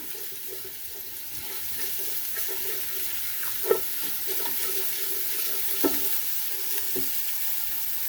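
Garlic frying in sesame oil in a pan, a steady close sizzle and hiss running throughout, with a few sharper crackles and pops standing out.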